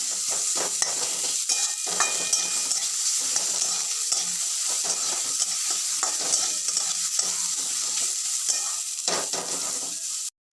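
Onions fry in a pan, turning brown, with a constant bright sizzle and the frequent scrape and tap of a spoon stirring them, close up and without talk.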